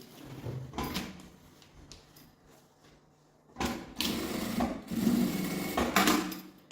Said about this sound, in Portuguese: vou fazer uma costura de meio pé de máquina